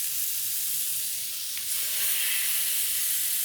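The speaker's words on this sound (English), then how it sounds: "We're going to oil it with avocado oil, which is a better oil instead of olive oil because it has a higher smoke point. And then we're just gonna give it a nice sear." A pork chop sears fat side down in hot avocado oil, giving a steady, loud broadband sizzle with a brief flare of spitting about halfway through, no voices.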